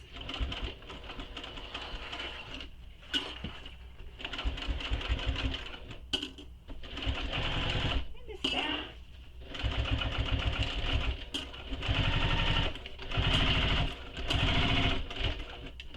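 A sewing machine stitches through the many layers of a bound bowler bag in repeated bursts with short pauses between runs, loud and close, while birds call faintly in the background.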